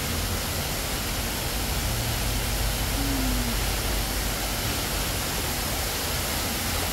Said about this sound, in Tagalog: Ayan yung waterfalls.